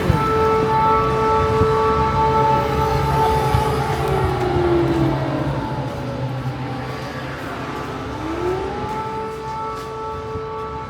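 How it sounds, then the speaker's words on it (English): An air raid siren in Kursk, Russia wails loudly and steadily across the town, its long tones holding and then sliding down and back up, with faint traffic and street noise beneath. "As soon as I walked away from the merchant's house, there was an air raid siren."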